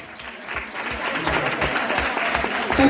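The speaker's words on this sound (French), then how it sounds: "on peut vraiment faire un tonnerre d'applaudissements et dire merci" An audience at a talk gives a burst of dense, sustained applause for the organizers, clapping loud and close throughout.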